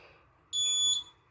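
A single loud, high-pitched electronic alarm beep from an Arduino crop protection system, lasting about half a second, with a second beep just starting at the end.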